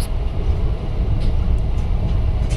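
A train rushes past at high speed, producing a loud, steady low rumble with continuous broadband roar and faint rattling clicks throughout, close and uninterrupted.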